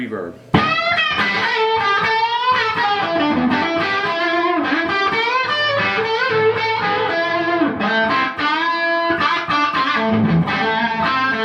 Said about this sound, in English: I'm going to kick in the reverb.